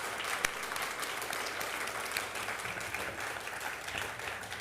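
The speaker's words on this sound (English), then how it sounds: "How about a round of applause for both candidates?" An audience claps for both candidates after a school-board campaign speech, a steady dense round of applause throughout.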